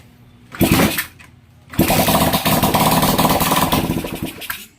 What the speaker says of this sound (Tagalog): So yun na nga, umandar siya at namatay din naman agad.